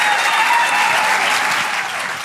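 An audience at a live idea-pitch event claps and cheers for the competing teams, a loud close burst of applause that holds steady and eases slightly toward the end.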